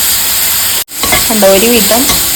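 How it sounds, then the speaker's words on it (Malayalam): Carrot sautéed in a hot pan sizzles loudly and steadily as it is stirred, with a brief cut in the sound before the frying and scraping carry on up close. "നമുക്കത് നന്നായിട്ടൊന്ന് വഴറ്റിയെടുക്കാം"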